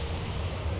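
Dense, continuous battle din from an Empire 2 multiplayer battle in the War of the Spanish Succession, with massed musket and cannon fire merging into a heavy, rumbling roar for under a second.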